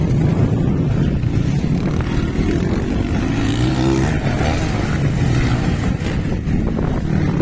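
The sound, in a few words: motocross motorcycles racing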